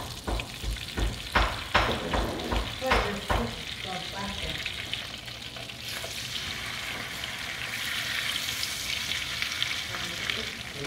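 Salmon fries in a pan of butter and olive oil, giving a steady close sizzle that starts with several sharp crackles and spatters and then settles into a continuous hiss, with faint voices now and then.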